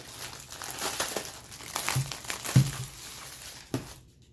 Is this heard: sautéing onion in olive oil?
no